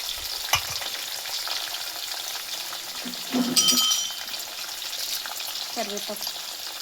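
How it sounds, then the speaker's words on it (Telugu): Carrot, potato, green chili and curry leaves frying in oil in a pan for upma, a constant close sizzle with a brief louder burst midway and occasional light clinks. "కరివేపాకు సిమ్లో ఫ్రై చేసుకోవాలండి."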